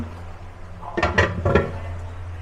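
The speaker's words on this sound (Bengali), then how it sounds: "এবার আমি ঢাকনাটা উঠিয়ে নিলাম" A metal lid is lifted off a cooking pot of home-style chalkumra greens curry, giving a few close clinks and scrapes in quick succession over a steady low kitchen hum.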